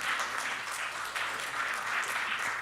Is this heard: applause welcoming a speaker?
yes